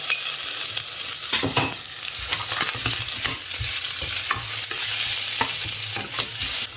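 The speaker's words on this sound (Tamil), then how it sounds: "இப்போ பாருங்கள், வெங்காயம் நல்லா வதங்கிடுச்சு." Onions sautéing in a pan for an okra (vendakkai) kuzhambu, a steady frying sizzle broken by repeated scraping stirs of a spoon against the pan, close and fairly loud with no voices.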